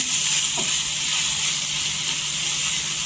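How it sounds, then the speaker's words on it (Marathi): Dried shrimp roasting in hot oil for a Marathi-style dry shrimp chutney, a steady loud sizzle and hiss that runs without pause, with no talking. "एक दोन मिनट आहे ना तेलावर छान अशी भाजून घ्यायची"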